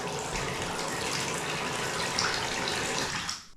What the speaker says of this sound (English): So I've just run the cold tap for about, I don't know, 2-3 minutes non-stop